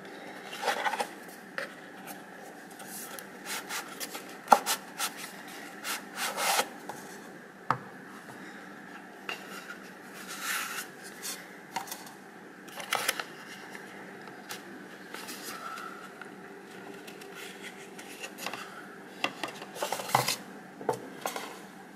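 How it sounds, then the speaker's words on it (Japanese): Unboxing a Montblanc Midnight Blue 60 ml ink bottle: light crinkles, taps and rubbing of packaging and glass, with scattered sharp clicks and rustles at a moderate, close level and no talk. "開封していきたいと思います。"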